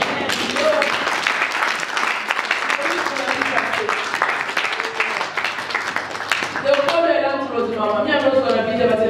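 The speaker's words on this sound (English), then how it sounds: "Clap for Jesus." Church congregation clapping during a prophecy and deliverance service, rhythmic claps under a loud voice, then a shift to mixed clapping and cheering with voices near the end.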